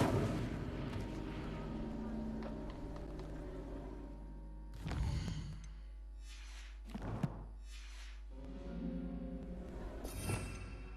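Incendio fire spell in Hogwarts Legacy, heavy booming blasts and roaring whooshes recurring across the scene, with several sharp bursts over a constant low rumble of game sound.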